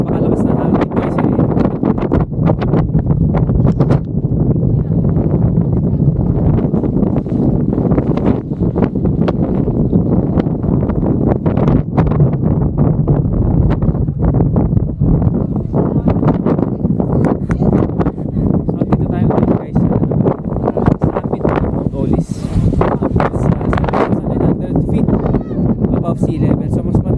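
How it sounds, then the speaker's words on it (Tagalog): Very strong wind roars and buffets the microphone at the Mt. Olis mountain viewpoint in Atok, Benguet, a loud, constant gusting rumble that runs throughout the recording. "Kahit napakalakas na hangin"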